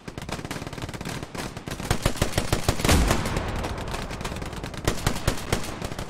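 Sustained machine-gun fire in the WWII shooter Hell Let Loose, rapid overlapping bursts of shots with a heavier boom near the middle, loud and close over several seconds, no voices.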